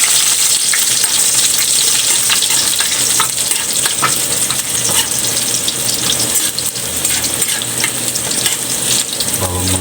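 Garlic hits hot cooking oil and fries in a loud, continuous close sizzle, with stirring noises and no talking.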